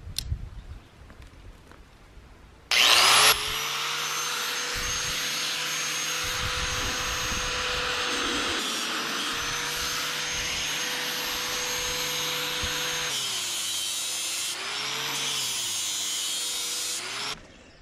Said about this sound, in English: So I'm gonna be using a grinder with a sanding disc.